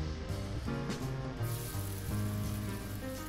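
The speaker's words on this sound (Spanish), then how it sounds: "Añadimos ahora un poquito de aceite y vamos a hacer muy ligeramente los langostinos." Prawns, halved, frying in a little oil in a pan, giving a steady, even sizzle throughout with no talk.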